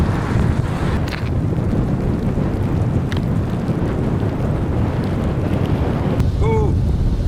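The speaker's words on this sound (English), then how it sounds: "Ooh, the wind is fierce here." Fierce wind roars in a snowstorm, buffeting the microphone with loud, constant low rumbling and gusts, and a brief voice is heard near the end.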